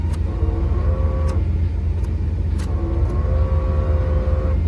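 A 1995 classic car's air conditioning running with a constant low rumbling drone and a harsh mechanical whir, steady and loud throughout, with faint tonal squeals riding on top.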